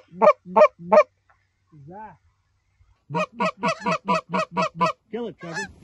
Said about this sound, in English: Oh, geese. Geese, guys.